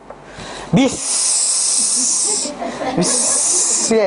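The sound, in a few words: voice imitating a hiss to shoo away a cat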